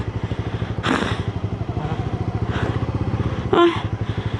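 A motorcycle engine idling with a steady pulsing throb on cobblestones, close and loud, with a few thuds and clatters as the bike is maneuvered into a parking spot.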